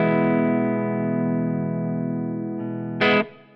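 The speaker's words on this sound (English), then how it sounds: "And then go back to my clean sound." A sustained, steady electric guitar chord through a Fractal FM3 rings out with a clean tone, fading slowly, then a brief brighter strum near the end.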